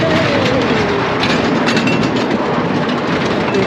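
Roller coaster train rolling down a first drop at Great Yarmouth Pleasure Beach, heard from a mid-train seat as a loud rumbling roar with rattling clatter and a brief wheel squeal.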